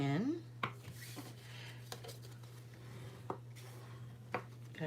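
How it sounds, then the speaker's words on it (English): Soft rubbing strokes of a bone folder burnishing the crease of a folded card-stock card, a few quiet scrapes against a steady low hum. "we'll fold this and burnish this"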